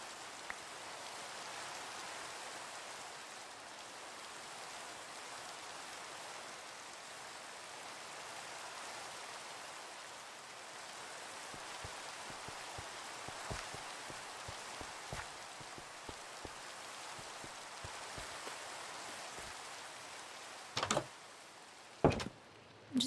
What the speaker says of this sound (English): And here comes a little rain.